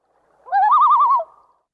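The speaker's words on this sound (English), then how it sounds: "that call that I just played is the tremolo. That is like the classic loon call." A single loon tremolo call, wavering and warbling, rises and pulses rapidly for under a second, clear and fairly close, with silence around it.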